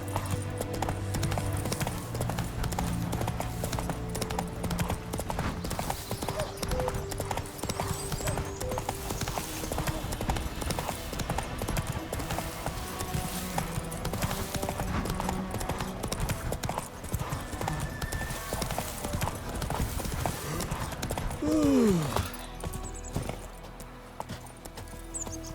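Roach, Geralt's horse in The Witcher 3, gallops with steady rapid hoof clip-clops over game music and ambience, a brief whinny near the end.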